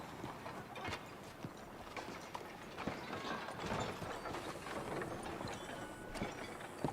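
Horse hooves clip-clop steadily in the video game Red Dead Redemption 2, a faint, rhythmic trot under low background ambience.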